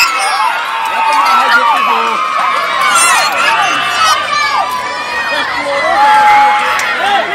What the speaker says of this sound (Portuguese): Maculada faz o segundo gol! A torcida, olha a torcida!